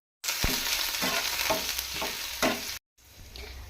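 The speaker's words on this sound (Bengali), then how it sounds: "এখন প্রথমে রসুন কুচি দিয়ে দিলাম, তারপরে একটু আদা কুচি।" Chopped garlic and ginger fry in hot oil, a steady close sizzle broken by a few sharp stirring scrapes and clacks, then a short silence before a quieter stretch of sizzling.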